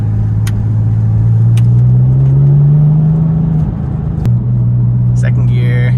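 Porsche 996 Turbo fitted with a Fabspeed Gen 1 exhaust and 100-cell catalytic converters, heard from inside the cabin with the window closed: a loud, steady engine drone that climbs in pitch under acceleration, dips at a gear change, then settles again.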